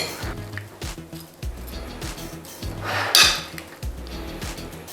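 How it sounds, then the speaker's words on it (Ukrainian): Repeated clinks and scrapes of utensils against a bowl as a salad dressed with sunflower oil is tossed, with irregular knocks and soft rustling, close by. "Гарно все перемішую"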